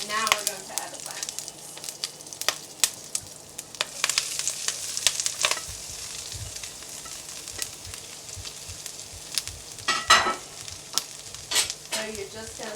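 Plantain stir-fries in a pan with curry leaves and spices, a soft steady sizzle broken by frequent scraping and clattering stirs, close and fairly quiet.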